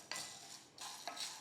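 Urad dal is dry roasted in a pan for a sweet peda, with two short bursts of scraping and stirring against the metal separated by a pause. They sound close, quiet and dry, with no voices.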